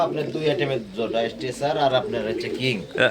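Fancy Lakha pigeons coo softly at a pigeon farm in Taherpur bazar, Bagmara, Rajshahi, mostly buried under close, continuous talking.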